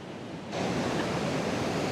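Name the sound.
waterfall at Banff National Park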